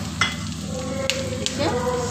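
Ginger and chopped green chili hit hot oil, giving a steady close sizzle with a few sharp crackles and spits over its two seconds, no talking.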